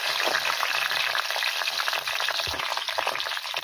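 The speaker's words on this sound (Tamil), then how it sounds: "கத்திரிக்காய் நல்லா பொரிச்சு எடுத்துக்கோங்க" Brinjal (eggplant) fries in hot oil in a pan for an oil brinjal gravy, giving a steady, close sizzle and crackle with a constant bubbling hiss and no pause.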